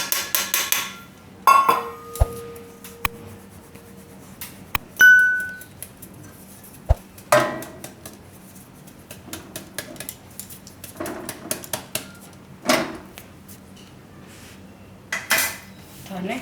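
Metal spoon scraping and clinking against a pot while jowar flour is mixed into melted ghee, with intermittent knocks and clatters, fairly close and moderately loud, no talk.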